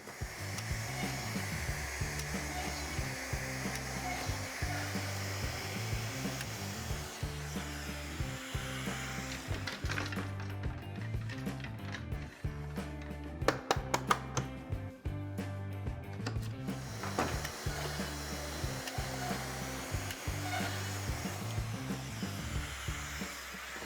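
Power tool cutting through plywood panels guided by clamped edge guides, a steady loud whining drone that runs continuously, with harsher bursts of rough cutting in the middle.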